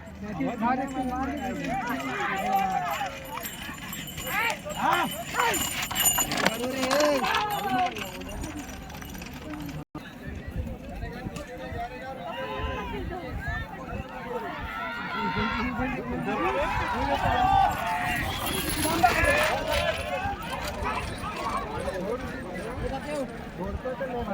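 Running bullocks pound and clatter at a state-level bullock cart race in Rajapur, amid a noisy crowd, with a loud voice talking over the commotion almost the whole time.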